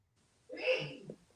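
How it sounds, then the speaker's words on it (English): A single loud sneeze bursts out abruptly and fades within a second, close by, with quiet room sound around it. "He just sneezed loud."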